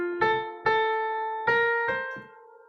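Short melodic phrase in the Hamsadhwani raga of Indian classical music, played as four plucked, bell-like notes with clean tones that ring and decay, each attack followed by a sustained resonance.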